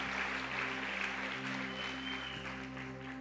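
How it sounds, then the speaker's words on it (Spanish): An audience at a church gathering claps steadily, a soft, dense wash of applause over a low, constant hum. "Ok, muy bien, un aplauso."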